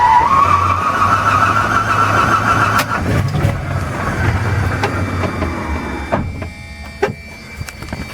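A DeHavilland Beaver seaplane's radial engine cranks over, a loud rough mechanical churn with a rising whine that fades into uneven rumbling and scattered knocks, heard up close with no talking.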